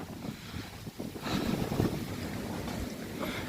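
Strong wind buffeting the microphone high on a mountain, near a temple at the summit of a long stairway, roaring and gusting continuously without a break and swelling stronger midway.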